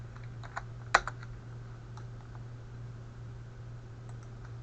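A few quick, faint key clicks from a computer keyboard as a folder name is typed, standing over a steady low electrical hum with long quiet gaps.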